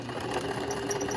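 A sewing machine takes a couple of stitches in a brief, steady mechanical whir with fine rapid ticking, close and continuous, without any talking.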